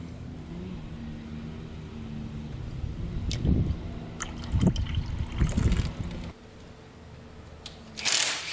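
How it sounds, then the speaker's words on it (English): Coolant mixed with oil drains from the open drain plug of a Kawasaki Tecate 4 250 quad during a teardown, a soft trickle and splatter close by with a few louder splashy bursts midway. "Right, coolant's coming out of there."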